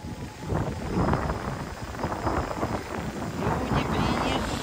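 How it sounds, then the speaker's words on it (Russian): Strong wind buffets the microphone in a steady, rumbling roar, with people talking underneath it. "Ветер, конечно, такой."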